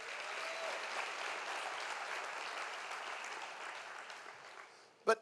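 A church congregation claps during a sermon, a sustained, fairly soft wash of applause that fades slightly, ending in one sharp, loud knock or thump.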